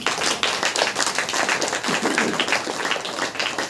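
A church congregation claps hands together in a dense, continuous burst of applause, loud and close, with faint voices mixed in.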